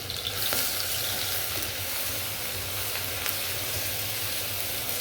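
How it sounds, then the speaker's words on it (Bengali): Blended onion paste fries in a pan with a steady, close sizzle and hiss that holds evenly throughout, and no one speaks over it. "পেঁয়াজটা ভালো করে আমি ভাজবো, ভালো করে ভেজে নিই।"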